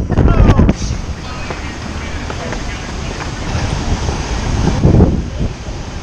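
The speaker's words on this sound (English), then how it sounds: "It's getting really windy, really windy." Strong wind buffets the microphone in loud gusts, roaring hardest at the start and again near the end, with surf-like rumble throughout.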